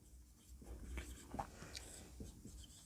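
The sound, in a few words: writing on a board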